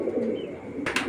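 A young 2023 female racing pigeon gives a low, soft coo that runs for most of a second, then breaks off into a brief burst of scuffling noise.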